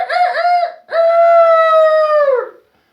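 A human voice imitates a rooster crowing, delivering a loud two-part cock-a-doodle-doo with a short break, then a long held final note that trails off into silence.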